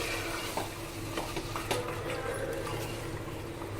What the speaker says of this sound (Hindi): सबको अच्छे से मिक्स कर लेते हैं